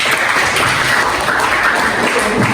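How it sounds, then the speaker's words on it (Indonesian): A classroom of students applauding together after a lesson, a continuous close burst of clapping that stays even and lively from start to finish. "Sekali lagi tepuk tangan untuk kita semua."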